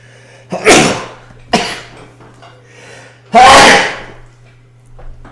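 Several loud, close sneezes, two quick ones followed by a bigger, forceful one, with a low hum underneath, during an online chess game.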